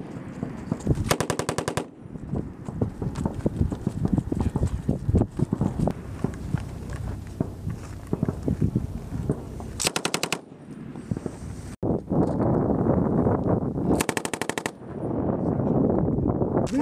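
Machine guns firing during an infantry live-fire exercise at Twentynine Palms, with long bursts of rapid automatic fire, separate short bursts, and heavy rattling loud throughout, with gaps between volleys.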